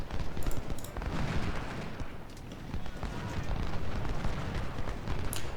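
Dense, continuous rumbling gunfire and explosions from an American Civil War battle in the video game Ultimate General: Civil War, including cannon canister shot, a heavy wash of booming and crackling with no pauses.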